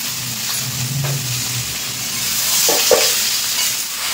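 Bottle gourd with green chilli, salt and turmeric sizzles in a pan as a spatula stirs it, giving a steady close frying hiss with a few scraping strokes; no voices.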